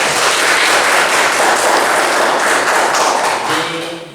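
Students in a vocational high school accounting classroom burst into loud, dense clapping that holds steady for several seconds, then fades near the end.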